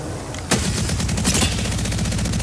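Devotion gunfire in a shooter video game: a sudden onset of rapid automatic fire, evenly spaced rattling shots ramping into a fast steady burst, loud and close with no talking.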